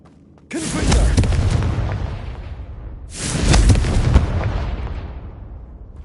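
Two booming fire-spell blasts from the Confringo curse in the video game Hogwarts Legacy, each a sudden loud burst with a rumbling, crackling decay, spaced about two and a half seconds apart with no talk.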